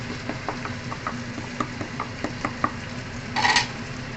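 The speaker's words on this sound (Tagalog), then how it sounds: "Haluin kasi natin yung chicken stocks" Utensil stirring chicken stock into green beans in a hot pan, with a low sizzle running throughout and light scraping clinks, plus a brief louder hiss near the end.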